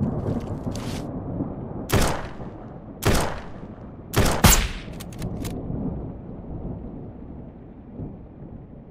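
Gunfire in the survival shooter video game SurrounDead: a few heavy, booming shots spaced about a second apart, then a quick burst of sharper cracks over a steady rumbling ambience, with no talking.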